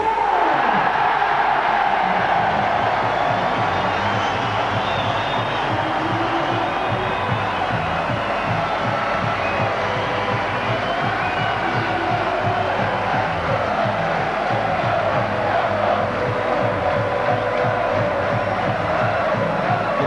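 A large football crowd at Hewish Park, Yeovil, for the Yeovil Town v Liverpool FA Cup third-round match in 2004 keeps up a loud, unbroken roar of massed voices and cheering for the whole stretch.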